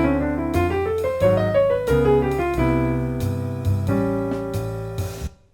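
Jazz piano plays a short 2-5-1 with chord substitutions over the 5 chord, a fast double-time line of notes over sustained chords, close and steady before fading at the end, with no talking.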